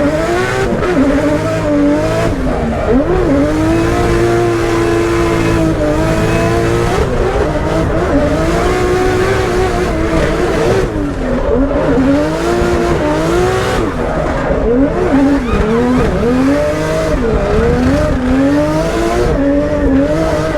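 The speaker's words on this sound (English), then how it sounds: "Just gotta hit my marks, hit my zones, do the drifts." A BMW E36 with a 2JZ engine swap drifts in competition, its engine roaring and revving continuously while tires squeal and skid through the turns, loud and close throughout with no talk.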